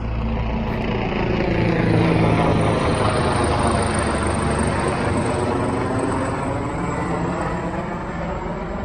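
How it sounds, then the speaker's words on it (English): A loud, steady rotor and engine roar fills the whole stretch, a broad rumbling drone overhead that holds constant from start to finish. "let's just wait for this large helicopter to go over"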